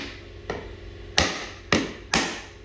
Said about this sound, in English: If I can lightly tap this, I don't want to screw the threads up, so I'll just lightly tap it.